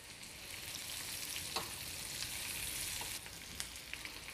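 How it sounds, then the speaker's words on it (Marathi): Onion and green capsicum sautéing in a kadai for kadai chicken, an even close hiss of sizzling oil throughout with occasional faint clinks of stirring, no talking. "त्यामध्ये मी आता कांदा घालते आणि कांदाही पुन्हा 1 मिनटं मी परतून घेणार"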